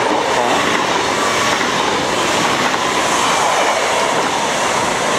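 A French TER 2N NG regional double-deck train passes close by over the rails near Moirans, a loud, steady rumble and rush of wheels with faint clatter, continuous for the whole stretch and with no talking.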